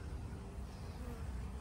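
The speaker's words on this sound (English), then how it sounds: "Bees are just wearing these flowers out." Bees buzzing steadily as they work coral vine flowers outdoors, a faint continuous drone of several insects without pauses.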